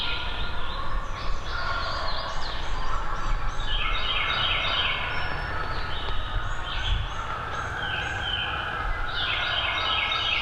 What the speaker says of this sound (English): he's down there gobbling like crazy at them